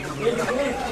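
Chickens cluck at a market, a short burst of fowl calls mixed with nearby human voices.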